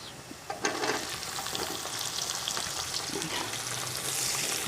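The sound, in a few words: onions frying with browned garlic in a pot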